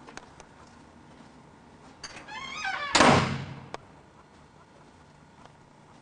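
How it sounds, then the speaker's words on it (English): A door is shut inside a house with a single solid thud, preceded by a brief squeaking creak. Quiet room noise surrounds it. "Jim, do you want to shut my door, please?"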